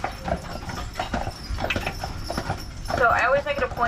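A draft horse team pulling a tour carriage on Mackinac Island clops along in steady rhythm under continuous close talking by a man.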